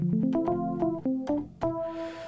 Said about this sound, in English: which really sounds like this electric piano type